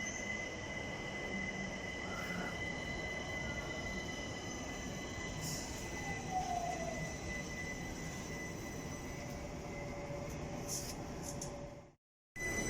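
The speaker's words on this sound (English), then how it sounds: "Off goes the Overground service to Euston." A London Overground train pulls out of Wembley Central station, a steady rumble with faint wheel squeal and rail noise at moderate distance, ending in a brief dropout.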